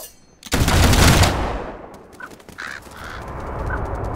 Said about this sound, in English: Ready! Take aim! Fire!